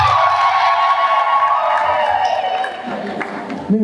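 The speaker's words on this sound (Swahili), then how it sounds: "Makofi mengi sana." An audience at a public gathering in Dodoma bursts into sustained applause and cheering, a dense wash of clapping with whoops that stays loud throughout and eases slightly toward the end.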